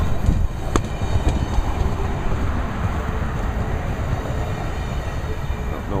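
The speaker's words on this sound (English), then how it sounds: "It's a regular train." An Amtrak Lake Shore Limited passenger train crawls slowly through Worcester with a steady low rumble of wheels and cars and a few faint clicks, heard from nearby.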